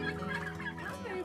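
Bourbon Red turkeys gobbling on a farm, a flock calling together in a dense, continuous burbling chorus with overlapping warbling gobbles, close and steady throughout.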